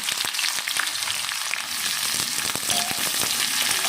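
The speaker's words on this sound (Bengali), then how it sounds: "পেঁয়াজটা ভাজা হয়ে গেলে" Chopped onions hit hot oil in a wok with cardamom, cinnamon and bay leaf for mutton curry, a dense close sizzle with sharp crackling pops, brief and without speech.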